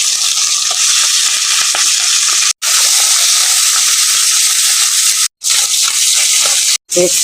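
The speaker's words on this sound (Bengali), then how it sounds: "মাছ দুটোকে আমি ভেজে নিলাম" Two pabda fish frying in oil in a pan, a loud, close, continuous sizzle and hiss with stirring noises, broken by a few brief silent cuts.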